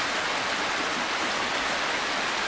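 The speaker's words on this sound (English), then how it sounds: "Rain, oh man, we got rain." Steady rain pours down outside, a dense, even hiss of falling water that holds at the same level throughout the clip, with no voices over it.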